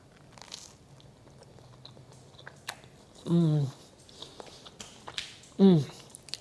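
Toasted bread spread with homemade guava jam is bitten twice, each bite a short, loud, close crunch, with faint murmuring between the bites.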